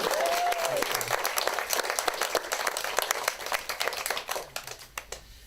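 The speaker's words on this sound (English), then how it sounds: "You can clap while I have a little drink." Applause from a live comedy crowd at a 2022 Edinburgh stand-up show, a dense burst of clapping that gradually thins into separate, sparser claps before fading.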